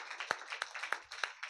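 Hands clap from an audience at a Christian gathering, a quick run of about five distinct, evenly spaced claps, soft and brief with no talk over them.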